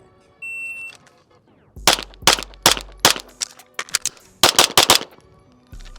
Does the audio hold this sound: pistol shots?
yes